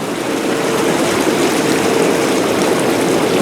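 An Intex inflatable four-person hot tub bubbler running in a garage, a loud steady rushing and churning of air through water that continues unbroken.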